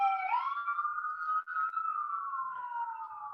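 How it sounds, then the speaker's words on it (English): A single emergency siren wails outside during an indoor podcast recording, its steady rising-and-falling tone loud and continuous with no one speaking over it. "Sorry about sirens."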